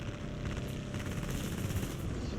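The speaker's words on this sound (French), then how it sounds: "c'était chaud, j'ai entendu les balles" Rapid bursts of gunfire crackle and bullets zip past in a dense, steady din of combat noise in the video game Yak 3, with no voices.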